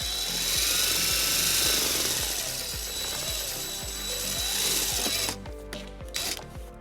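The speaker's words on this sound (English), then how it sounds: "and then we'll drill our second hole." A power drill bores a hole for a bracket screw during a trailer wiring harness install on a 2016 Toyota RAV4, giving a close, rhythmic ratcheting whir that stops near the end.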